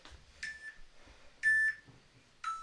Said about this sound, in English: Alright, that's the end of the timer.